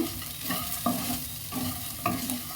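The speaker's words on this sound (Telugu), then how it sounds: "అబ్బో ఘాట్ స్మెల్ భలే వస్తుంది అల్లం ఫ్రై అవుతుంటే" Ginger frying in a pan for cashew upma, a steady close sizzle with a spatula scraping and stirring at regular intervals, no one talking.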